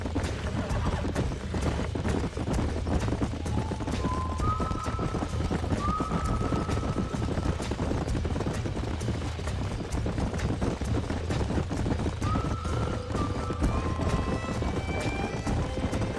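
Steady clip-clop of horse hooves trotting in the video game Red Dead Redemption 2, with occasional whinnies rising over a constant rumbling game backdrop.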